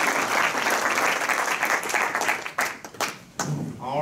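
Warm round of applause from an audience at a Rotary Club meeting, dense steady clapping filling the room before thinning out near the end as a voice begins.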